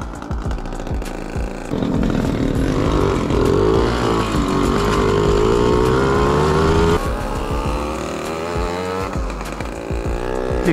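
Small two-stroke mopeds, a Pioneer 555 and a Babetta 210, rev their exhausts loudly and steadily on a hillside meadow ride, the rasping engine note rising and holding for several seconds, with no talking.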